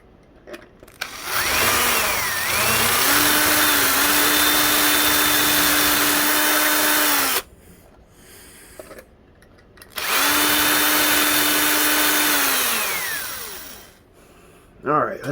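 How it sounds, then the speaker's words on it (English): A power drill boring out a hole in a strut on a boat, with two long whining runs of the motor at close range. A rising pitch settles into a steady drone, with a short quiet gap between and faint handling noises. "I'm gonna drill out that hole kind of like they did."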